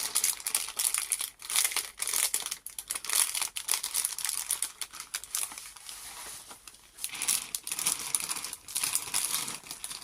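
Paper and packing material crinkle and rustle continuously as a parcel is opened by hand, close and fairly loud, with brief pauses between handfuls.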